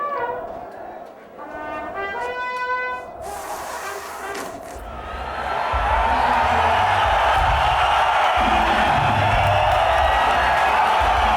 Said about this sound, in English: When we hit the stage, the crowd just went nuts.